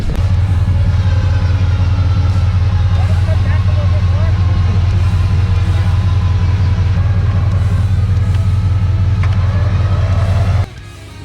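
An off-road vehicle engine rumbles loud and steady on the Miller Jeep Trail as it strains to pull a stuck overlander with a strap, with a deep, continuous drone that cuts out just before the end.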